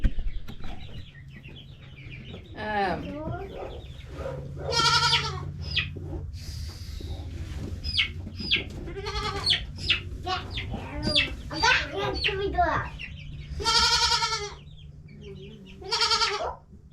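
Goats bleat repeatedly at close range during vaccination and deworming of baby goats on a farm. The loud, wavering calls are scattered among clucking fowl, and a person speaks quietly at times.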